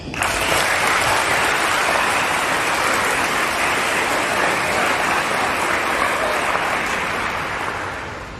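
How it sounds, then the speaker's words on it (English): Loud, dense applause from a large crowd at an 8th grade promotion ceremony, sustained evenly for several seconds before easing off slightly at the end. "Please join me in an initial round of applause for our 105 young scholars and our distinguished guests."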